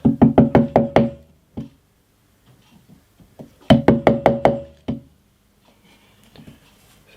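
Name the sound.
chiselling out a custom acoustic guitar bridge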